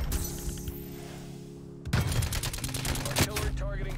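Rapid gunfire from a Milano 821 in a first-person shooter video game, a burst of fast repeated shots after a quieter stretch of game ambience, loud and close.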